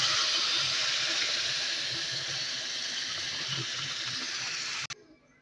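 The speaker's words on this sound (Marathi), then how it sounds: "पाणी ओतून घेतलं आहे मी गरम करून." Hot water is poured from a pot into a kadai holding jaggery for sweet lapshi, a steady close gushing splash for about five seconds that stops abruptly.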